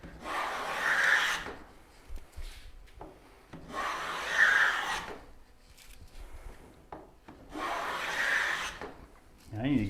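Wood being shaved for molding makes three long, quiet rasping strokes at an even pace, each a drawn-out scrape separated by short pauses with faint knocks and clatter.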